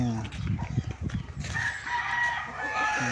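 A rooster crows in a long drawn-out call, clear and fairly close, with some clucking and background noise around it.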